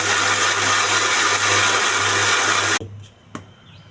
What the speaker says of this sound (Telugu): మిక్సీ వేసుకోవాలి.